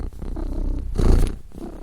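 A person imitating a cat purring, giving a low, rumbling, close purr that lasts a couple of seconds and swells briefly in the middle.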